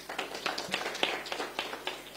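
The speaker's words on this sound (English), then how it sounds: "Round of applause." Scattered round of applause from an audience at a Neonatal Nurses Day event, individual claps distinct and uneven, fairly quiet and thin.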